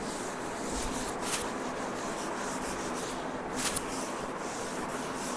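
A classroom board being wiped with a duster, a steady broad rubbing hiss that runs close and continuous with no talk, two brief louder scrubs standing out near the middle and end.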